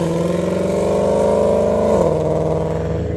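A 1994 Toyota Supra with a built 2JZ engine and Precision 7275 turbo, manual transmission and E85 fuel, revs loud and close, a sustained throaty drone whose pitch climbs, then dips briefly near the end.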